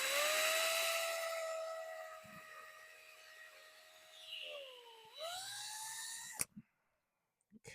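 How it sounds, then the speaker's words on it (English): A power drill whines at a steady pitch, dips and slows, then revs back up before stopping abruptly, followed by a couple of faint clicks. "With the drill."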